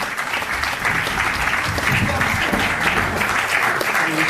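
Enthusiastic audience applause at a film premiere awards moment, dense sustained clapping with a murmur of crowd voices mixed in, loud and steady throughout.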